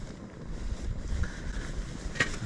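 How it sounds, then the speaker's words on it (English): Wind gusting outdoors beside Styhead Tarn near Seathwaite in the mountains, a steady rough buffeting with low rumbles against the microphone and a brief sharper gust near the end. "it's a bit windy this morning"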